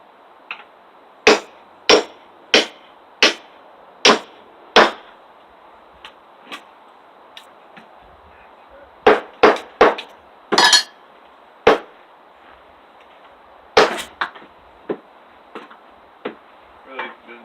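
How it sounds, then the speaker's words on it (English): A 3-pound cross peen hammer strikes in sharp, loud, ringing blows, first in an even series of whacks, then in irregular clusters with quieter taps between, with no talking over them. "just a couple whacks with the hammer and you bust her off clean"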